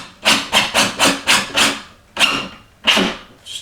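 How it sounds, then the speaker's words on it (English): A power driver shoots screws into wood to join the legs of a model railway switching layout, giving a quick run of six rhythmic bursts followed by two longer, louder ones, close and clear with no talk. "I'm going to shoot a couple screws to join them together and lock that."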